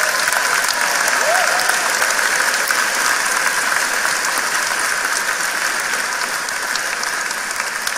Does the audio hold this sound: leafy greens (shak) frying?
no